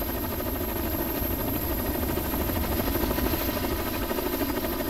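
A rescue helicopter over the sea during a sea survival exercise for trainee fighter pilots, a steady rotor drone and whine holding at constant loudness, moderately distant, with no voices.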